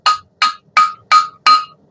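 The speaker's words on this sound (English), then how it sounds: "I'm going to set and try to hammer this together as flat as I can" Hot forged steel for a decorative fire poker is struck with a hammer: five evenly spaced, close, ringing metallic blows, loud and alone with no talk.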